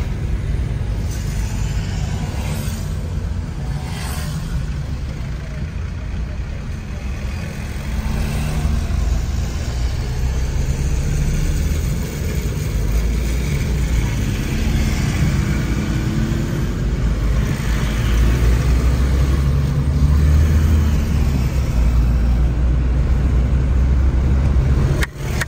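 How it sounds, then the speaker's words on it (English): Inside a taxi in Morocco, heading from the Medina back to a hotel, a steady engine drone mixes with continuous road rumble and tyre noise, loud and unbroken throughout with no talking. "in the taxi from Medina back to the hotel"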